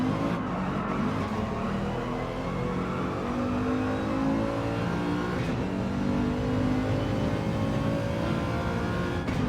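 A race car engine in the RXGT racing game on the Alsace Short Reverse track roars loud and steady without pause, its pitch rising and falling as the car is driven into a corner.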